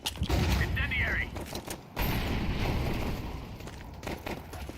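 Counter-Strike match with an incendiary grenade going off and bursts of gunfire, loud and dense under excited commentary from casters.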